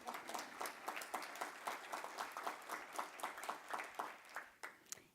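Audience applause at a board welcome in a fireside chat, a steady patter of individual claps that holds for several seconds at moderate distance, somewhat faint and fading at the end.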